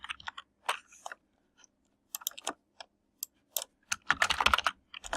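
Typing on a computer keyboard, soft irregular clicks and taps in short bursts with brief pauses, close and fairly quiet, no voices.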